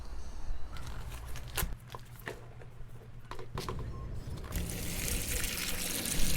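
Water pours and splashes into a plastic acid bucket, a continuous rushing trickle with a few clunks and knocks along the way.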